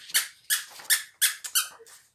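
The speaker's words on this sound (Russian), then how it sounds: "Зубами пищит." A dog squeaks through its teeth, giving a series of about six short, high-pitched squeaks, close by and fairly loud, with brief gaps between them.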